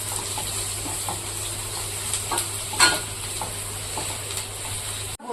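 Onions sautéing slowly for a spicy kara podi fish curry: a continuous soft sizzle with occasional light stirring scrapes and one brief sharper clink, close and steady, no voices.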